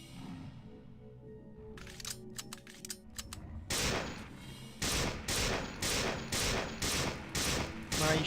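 Gunfire rings out in System Shock 2: Enhanced Edition, first a quick volley of sharp cracks and then a steady series of loud, evenly spaced bursts close by, with no talking over them.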